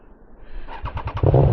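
A Triumph Trident 660 motorcycle with an aftermarket Firetong exhaust fires up under a bridge and runs with a loud, throaty exhaust, getting louder and rougher toward the end.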